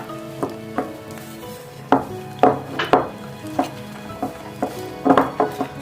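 Sweet appam batter with banana, ghee-fried cashews and cardamom mixed in a bowl, close irregular knocks and clinks of the spoon against the bowl's sides, some louder, with soft wet stirring between.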